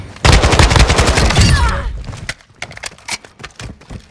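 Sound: gunfire in a video game

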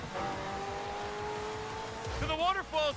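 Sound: McLaren Senna car engine in Forza Horizon 5 video game

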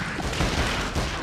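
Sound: gunfire in King Kong video game

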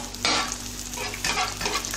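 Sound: sfenj dough frying in hot oil

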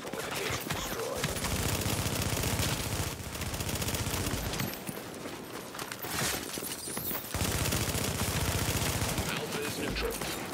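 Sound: gunfire on a fortification in a video game

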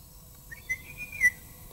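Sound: person whistling to imitate a blackbird

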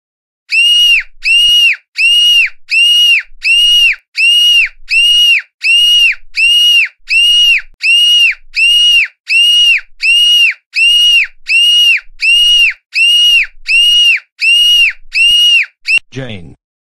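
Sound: banshee scream

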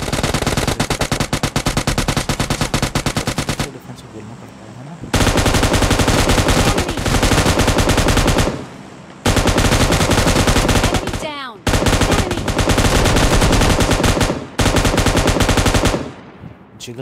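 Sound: M249 machine gun firing in a video game (PUBG)

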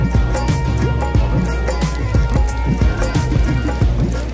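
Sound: rain falling

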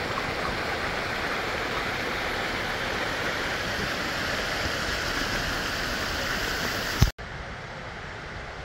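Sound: waterfall by a local dam

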